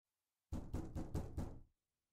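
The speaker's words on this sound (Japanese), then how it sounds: "孫が部屋の前までやってきて、扉をどんどん叩き始めました。" Repeated knocking on a door, about five firm, evenly spaced bangs in quick succession, close and loud with no talking.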